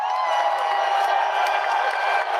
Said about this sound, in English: let me get the round of applause ready